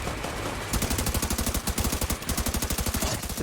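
Rapid automatic gunfire from The Division 2 rattles out in a steady, evenly spaced burst after a moment of noisy combat ambience, loud and close.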